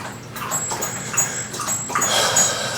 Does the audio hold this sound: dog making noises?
yes